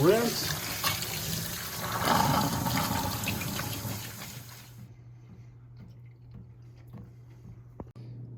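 Tap water runs into a sink as basil noodles are rinsed, a steady broadband wash for about five seconds that then cuts off, leaving a low hum and a few faint drips and clicks.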